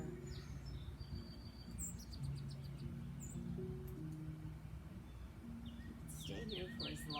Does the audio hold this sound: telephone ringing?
no